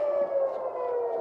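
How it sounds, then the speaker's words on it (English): Air raid sirens wailing across Tel Aviv during an attack from Iran, a loud sustained steady tone with no other sounds. "So you hear the sirens now, and this is all around the area that we're in Tel Aviv."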